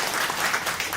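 An audience at a Jung-gu district office redevelopment briefing applauds the urban redevelopment section chief, a short, dense burst of many hands clapping, close and steady.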